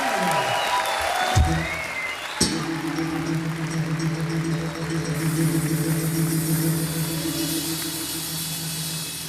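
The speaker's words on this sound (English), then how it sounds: "big round of applause" A crowd claps at the London Bass Guitar Show for bassist Mark King, a loud wash of applause that carries on over a steady low amplifier hum from about a third of the way in.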